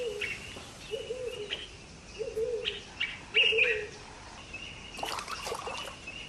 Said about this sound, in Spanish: Un apabullante número de aves instala su hogar para aprovechar la buena pesca.